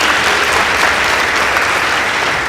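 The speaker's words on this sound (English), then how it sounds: "Please give them a warm round of applause." An audience at a school debate contest claps steadily and loudly for the debating teams, a dense even applause with no voices over it.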